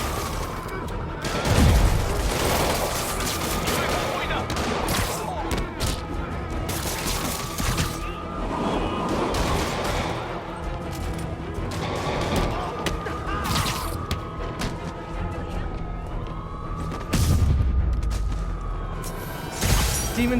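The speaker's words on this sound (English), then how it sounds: "That shootout's gonna get someone killed." Gunfire shootout in the video game Marvel's Spider-Man, with repeated bursts of shots, thuds and crashes over game music and effects, punctuated by a few heavy booms.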